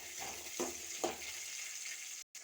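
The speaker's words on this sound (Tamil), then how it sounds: "சின்ன வெங்காயத்தை இதில் சேர்த்துடலாம். இதை அப்படியே வதக்கிடலாம்." Small onions sizzle in hot oil in a kadai, a steady frying hiss broken by a few sharp stirring scrapes, close and continuous, with no talk.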